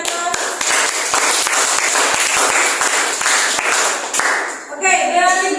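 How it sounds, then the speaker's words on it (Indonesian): A classroom audience applauds after a group presentation, about four seconds of dense, even clapping from many hands that fades out, followed by a voice speaking. "Oke, kita kasih aplaus."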